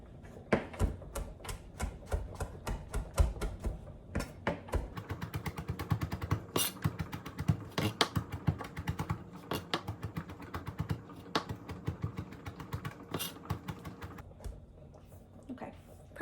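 A good kitchen knife roughly chops food on a cutting board in quick sharp knocks. They come in bursts and irregular runs, loud and close, with short pauses between batches.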